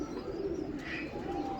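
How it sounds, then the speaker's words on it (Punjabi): A pigeon coos softly and continuously at close range, with its chick nearby in a loft, and no one talking. "ਇਹ ਕਬੂਤਰ ਦੇਖਿਓ ਤੇ ਇਹਦਾ ਬੱਚਾ ਦੇਖਿਓ"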